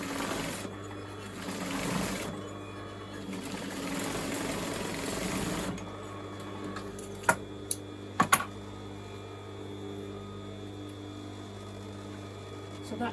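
Sewing machine running a second reinforcing row of stitching around a trouser pocket, a steady mechanical whir for the first several seconds, then quieter with a few sharp clicks.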